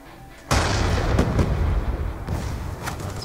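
Gunfire in the video game Black Ops 2, played in hardcore mode: after a quiet half second a heavy, loud burst of shots erupts and rolls on as a dense barrage with sharp cracks near the middle and end.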